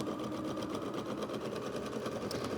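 An embroidery machine stitches steadily, giving off a rapid, even mechanical whir with regular needle pulses, close and continuous.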